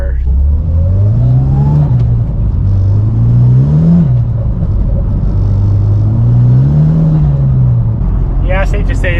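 Mitsubishi Lancer Evo pulling hard through the gears, loud and close, its engine note climbing and dropping with each shift as a voice talks over it near the end.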